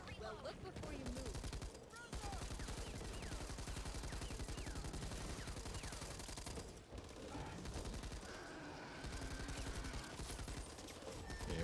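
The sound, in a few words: machine gun fire in the video game Back 4 Blood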